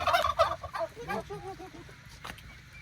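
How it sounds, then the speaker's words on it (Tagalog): A turkey gobbles close by on a farm, a quick rattling burst of warbling notes, followed by faint background noise. "Be careful with the turkey, huh?"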